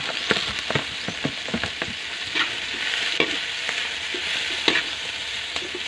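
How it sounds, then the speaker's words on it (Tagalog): Shrimp frying in coconut milk for ginataang hipon sizzles steadily in a pan while a utensil stirs it, with repeated scraping clicks and knocks over the constant bubbling hiss, no talking. "halo-haluin lang natin para magpantay yung luto"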